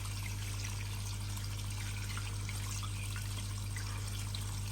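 Water running steadily over a sunglasses case being washed, a continuous, moderately loud trickling and splashing with a low hum underneath.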